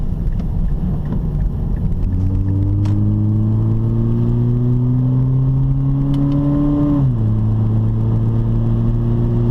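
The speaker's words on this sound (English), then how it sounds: "we're going to downshift the gear here again, and to second, take the corner." A Mazda 3 engine drones steadily, its pitch rising as the car accelerates, then dropping sharply in one step as it downshifts into second gear for a corner, before holding a lower, steady tone with continuous road noise underneath.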